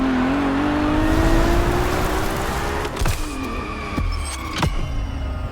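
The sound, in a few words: Ferrari car engine driving, from video game Motorfest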